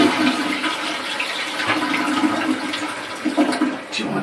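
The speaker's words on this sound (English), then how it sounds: "Vinny, flush the toilet." A household toilet flushes close by, its rushing water swirl running steadily through the whole stretch with no one talking.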